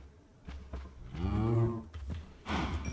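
Cows mooing in Minecraft, with a drawn-out low moo in the middle followed by a shorter one near the end, clear and close against faint game background sounds.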